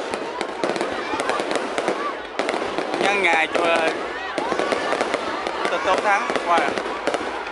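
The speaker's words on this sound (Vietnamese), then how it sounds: "Đây là thời khắc bắn pháo hoa nha các bạn." A fireworks display over Long Xuyen city crackles and pops in dense, rapid bursts with whistling streaks, while a person talks over the show.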